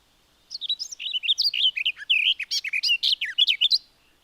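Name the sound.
warbler singing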